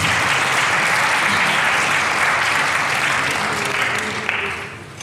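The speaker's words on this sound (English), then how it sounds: "Let's give a round of applause to EDAC." Sustained applause from an audience at a university human rights dialogue event, a dense, loud wash of many hands clapping that holds steady and then tapers off near the end.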